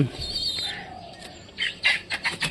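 Pet pigeons in a home loft where one has just laid an egg, giving short bright chirps and squeaks that cluster in a rapid, close series near the end over a faint background hiss.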